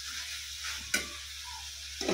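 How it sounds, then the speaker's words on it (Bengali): Curry frying in a pan with cumin paste just added and being stirred: a soft steady sizzle, a sharp single scrape or clink near the middle and another stir at the end, no talk. "জিরে বাটাটা দিয়ে দিলাম, ভালো করে কষে নেব"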